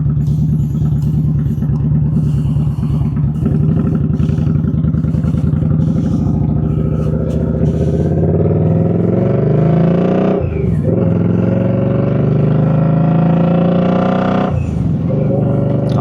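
A car engine idles steadily at a stoplight while warming up, a close, continuous low rumble with slight clatter and a couple of brief dips in tone, running on alone throughout.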